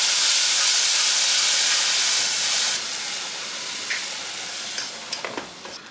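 Steady broadband sizzling of blended roasted vegetables for tomato soup frying in a hot pan, loud and constant, with a few small pops and clinks toward the end.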